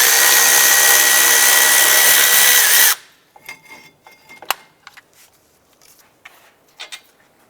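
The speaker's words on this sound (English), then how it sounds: "We're going to loosen and remove the upper bolt." A power tool spins loose the upper caliper bracket bolt on a 2006-2011 Cadillac DTS front wheel hub in a loud, continuous burst, then stops, leaving scattered clinks and handling noises close by.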